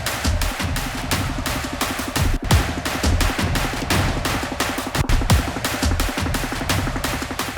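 Punchy, polished orchestral drum groove processed with EQ and compression, deep booming hits and rapid rolls, tight and loud, repeating steadily with no talking.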